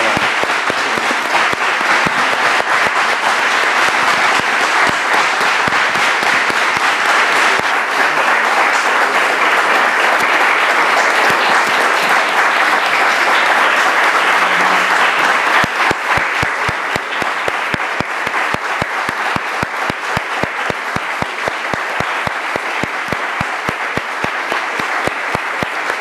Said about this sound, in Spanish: Un aplauso para don Manuel, por favor.